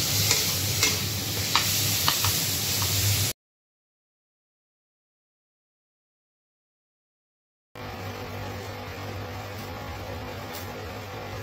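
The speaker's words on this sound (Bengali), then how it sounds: "একটু পেঁয়াজ, কাঁচা লঙ্কা আর একটু রসুন কুচি দিয়ে ভেজে বেগুনটা" Eggplant sizzling in hot oil with onion, green chilli and garlic, a steady close frying hiss with occasional stirring scrapes, broken by a stretch of total silence before the sizzle resumes.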